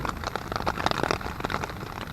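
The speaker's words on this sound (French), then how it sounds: "Nous sommes sous un bel orage." Steady rain from a thunderstorm patters softly on forest leaves and ground, a faint, even hiss with scattered drops and no voices.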